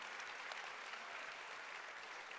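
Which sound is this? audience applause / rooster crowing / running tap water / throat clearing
audience applause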